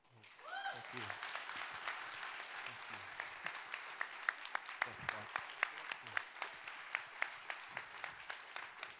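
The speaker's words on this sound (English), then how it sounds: "Would you guys give one more round of applause to all these candidates" A church congregation at a baptism celebration gives the baptism candidates a sustained round of applause, dense clapping filling the room with scattered sharper individual claps standing out toward the end.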